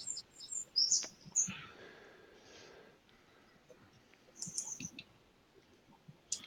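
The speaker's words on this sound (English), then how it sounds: "we've got a couple of blackbirds this time of year" Blackbirds singing outdoors in England, heard as faint, scattered high chirps and clicks that come and go in short bursts over a quiet background.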